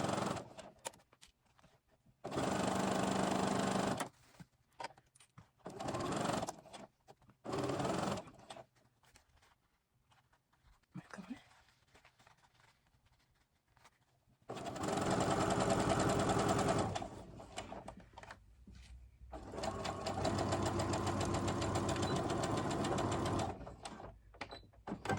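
A sewing machine stitches fabric over pins, running in loud sustained bursts of several seconds separated by pauses and quieter handling noise, with one long continuous run near the end.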